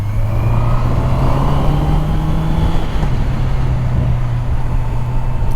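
A Honda CBR650R with E-Clutch rides along, its engine holding a loud, steady drone that shifts pitch slightly around midway, with heavy wind rush and no voices.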